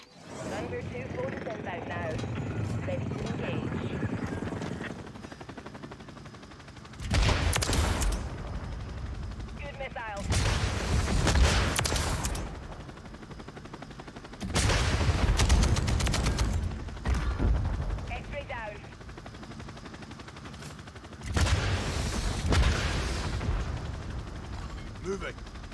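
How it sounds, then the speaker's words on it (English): A chopper gunner helicopter in a shooter video game fires in repeated loud bursts of heavy gunfire and explosions, with rumbling pauses between the volleys and a person talking over parts of it. "it's chopper gunner time."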